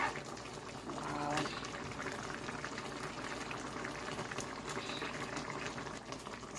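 Jamaican-style fish with peppers, carrots and pumpkin steaming in a pot, a faint continuous bubbling and watery boil with small clinks, heard close under a quiet room.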